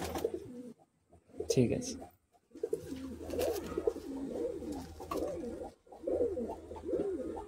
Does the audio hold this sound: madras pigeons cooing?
yes